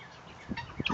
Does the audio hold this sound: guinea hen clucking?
yes